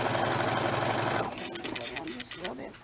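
A sewing machine with a roller foot stitches double cording on stockings, running steadily and loudly for over a second before stopping, followed by softer clicks and handling sounds.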